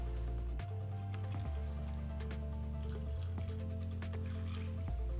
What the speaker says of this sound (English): now we'll go ahead and top it off with our sparkling water.